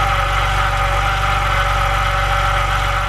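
A BMW engine idling in the engine bay: a steady, loud, even mechanical rumble with a fine rhythmic pulse and a faint whine above it, close and continuous with no talk.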